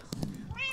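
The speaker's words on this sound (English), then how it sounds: "I use my meow." A short cat meow taunt from the Block Hunt video game, heard once as a brief, close, rising electronic-sounding meow with little else around it.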